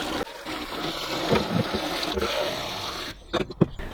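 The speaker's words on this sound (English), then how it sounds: "I'm just going to put some fresh cold water in it." Fresh cold water is poured into the tank of a Delonghi Magnifica Start coffee machine, a close, uneven trickle and splash followed by brief plastic handling clicks near the end.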